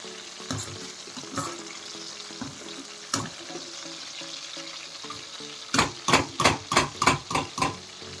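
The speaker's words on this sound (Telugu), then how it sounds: "చూడండి ఎలాగ ముడుచుకుపోయాయో ఇలాగ ఫ్రై అయితే చాలా బాగుంటుంది" Cluster beans sizzle and crackle as they fry in hot oil for a curry, a steady close hiss broken near the end by a quick run of sharp, rhythmic stirring scrapes.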